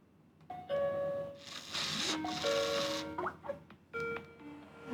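An EZVIZ CP4 smart peephole doorbell chime rings out in bright repeating tones, a couple of melodic ding-dong patterns played close and clear with no talking.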